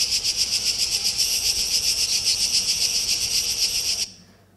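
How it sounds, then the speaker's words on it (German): Dense, shrill buzzing of many cicadas in bushes and trees in Sicily, steady and pulsing, loud and close, cutting off abruptly near the end. "das ist der Lärm der Zikaden."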